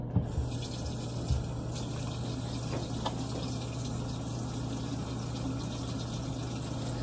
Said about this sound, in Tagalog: So ngayon, mag-start na tayo maghugas.